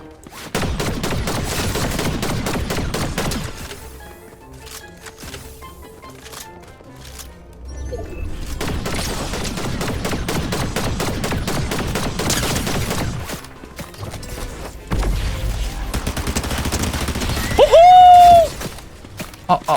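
Gunfire in an online shooting video game, long bursts of rapid automatic fire with loud clustered shots, pauses between bursts and a sharp effect near the end.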